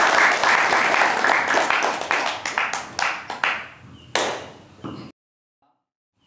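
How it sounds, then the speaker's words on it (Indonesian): An audience claps for a presenter at a business training event, full applause at first that thins into scattered individual claps before stopping, then silence. "tepuk tangan buat Bapak Agus Anwar Jatmiko"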